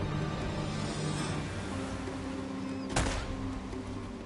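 A single sharp gunshot rings out in Uncharted: Drake's Fortune, played on PlayStation 5, a short crack partway through over a steady droning game background.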